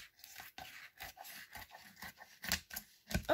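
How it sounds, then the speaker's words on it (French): Scissors cut through a transparent plastic binder sleeve at close range, making quiet, rhythmic crisp snips and scraping crunches in quick succession with no voices. "ce que je vais faire, je vais découper parce que ça va me gêner"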